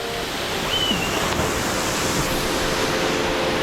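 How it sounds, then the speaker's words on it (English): A mini waterfall splashes in a steady, loud rush of falling water heard close up, with no voices. "it's a mini waterfall"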